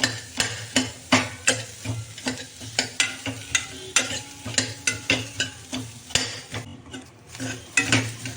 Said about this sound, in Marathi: आता आपण कांदा भाजून घेऊ तेल टाकताच आपण कांदा भाजून घेणार आहोत